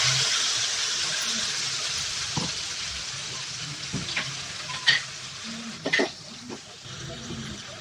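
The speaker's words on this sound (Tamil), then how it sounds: "கூடவே கொஞ்சம் கசகசா கருகாமல் வறுத்துக்கணும்" Poppy seeds dry-roasting in a pan give off a steady soft sizzle and crackle, with occasional sharper scrapes and taps from stirring; no voices.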